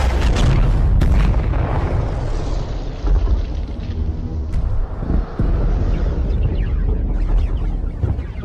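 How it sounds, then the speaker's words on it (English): A heavy, rumbling explosion in Star Citizen quakes a shipping hub, booming and rolling on with crackling debris and lingering low roar, loud and close, no talking. "An explosion quakes the frame of the shipping hub."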